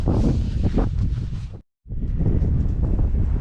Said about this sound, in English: I know it's windy up here so you might not be able to hear me